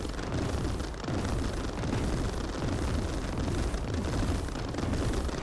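Foreshadow turret shots exploding around units in the Mindustry video game, a dense, continuous rumble of overlapping blasts and bursts, loud and sustained without pauses.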